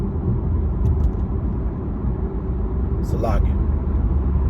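A car drives along with a steady low engine and road rumble throughout, close and continuous, while someone speaks briefly over it.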